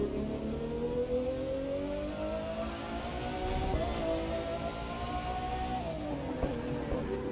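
A powerful Ferrari engine in the video game The Crew 2 roars steadily, revving up and shifting pitch through gears, loud and continuous with no one talking.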